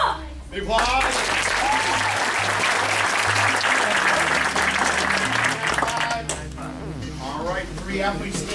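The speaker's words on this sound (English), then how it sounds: "Big applause, parents" Sustained applause from a crowd of parents at a martial arts tournament with weapons, forms and sparring events, loud and steady throughout, with cheering voices mixed in.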